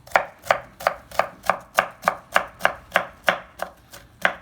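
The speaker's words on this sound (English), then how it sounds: "we have our onion just here. I'm just going to cut that up just like this" An onion being chopped with a knife on a chopping board, about thirteen steady, evenly spaced knife strikes landing close by and loud, with no talking.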